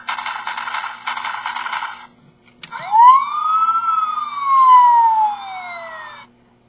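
Electronic siren from a Robots in Disguise Optimus Prime toy, 2000 release: a short buzzy wail, a brief pause, then a loud rising-and-falling tone with swept whistling overtones lasting about three seconds before cutting off.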